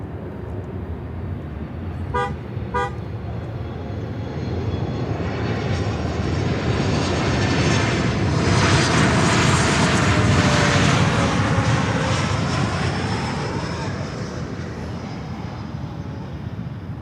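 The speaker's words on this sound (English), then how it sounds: "our next inbound is a 737 MAX 8 from Quito in" A Boeing 737 MAX 8 jet roars in to land at Miami airport, a loud broad engine rumble swelling and fading over many seconds, with a brief double horn toot early on.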